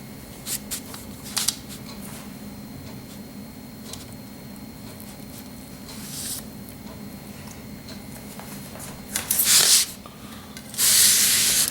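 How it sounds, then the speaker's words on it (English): A knife cuts a cheesecake into smaller slices, with faint scraping and rubbing strokes that become a couple of louder, hissing scrapes near the end. "Now I'm going to cut this one into smaller slices."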